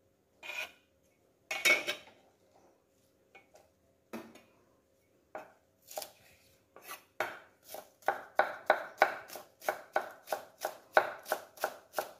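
A knife chops vegetarian sausage on a board, first in a few isolated strikes, then in a quickening, steady rhythm of close, crisp cuts.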